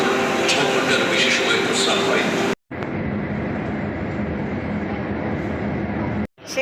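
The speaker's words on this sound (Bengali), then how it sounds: "মেট্রোটা ঢুকে গেছে মেট্রোটা" A metro train pulls into a station with a loud, steady rumble and rushing roar that cuts out briefly twice; a person talks over it.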